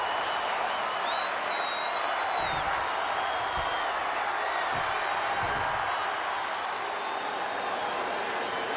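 Virtual arena crowd in the WWE 2K24 video game, a WrestleMania 40 main event, roars and cheers in a continuous, distant wash with scattered whistles and claps.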